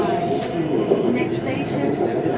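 Interior of a Bangkok sky train running on its elevated track, a loud continuous rumble and rail hum with faint high squeals, heard from inside the car while someone talks over it.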